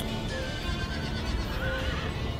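Horses in Empire Total War, a pair of cavalry units, neigh and whinny over a dense battlefield din with faint hoof clatter. Several short whinnies stand out mid-clip, moderately loud, with no talk.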